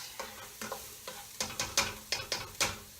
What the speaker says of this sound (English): I'm going to give my onions a stir because they're smelling delicious